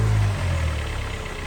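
A Kia Sportage 3 with a freshly rebuilt G4NA engine gives a brief loud rev, a close, strong low engine roar that slowly eases off.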